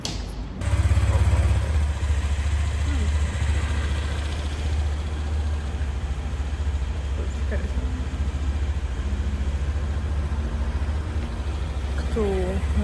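Motorcycles and scooters idling together at a traffic light, a steady low engine rumble that holds throughout, with scattered faint thumps and street noise.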